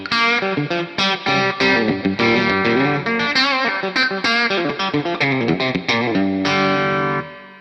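An electric guitar played through Amplitube 4 amp simulation rings out in a quick run of distorted, sustained notes and chords, loud and alone, ending on a held chord that fades.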